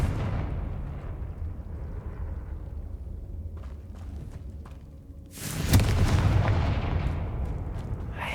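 A fire-spell blast in the Hogwarts Legacy video game arrives as a loud booming burst about two-thirds of the way through. Before it comes a rumbling game ambience with scattered small pops, and a roaring crackle follows the burst and carries on.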